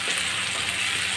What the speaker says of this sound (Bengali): এখন টমেটোটা এর মধ্যে ভালো করে ভাজবো।